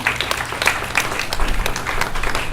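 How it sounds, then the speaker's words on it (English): An audience gives a steady round of clapping for Oregon wine pioneers Dick and Nancy Ponzi, dense and continuous throughout. "please, another round of applause for the two of them"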